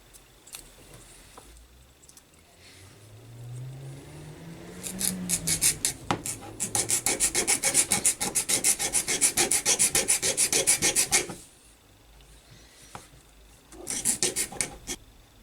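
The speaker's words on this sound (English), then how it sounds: "what we need to do now is file most of this lug off as well that's stopping it from steering properly" Rapid rasping strokes of a file grinding down a plastic lug on a Tamiya TT02 RC car chassis, a dense close-up burst of scraping lasting several seconds, then a shorter second burst.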